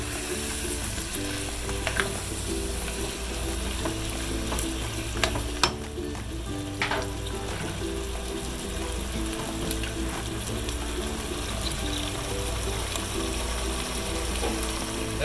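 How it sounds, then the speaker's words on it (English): Marinated pork for caldereta sizzles and fries in a pan while being stirred, a steady close crackle with scraping and clinking of the utensil against the pan, no voices. "we put in our marinated pork. Okay, mix them all together."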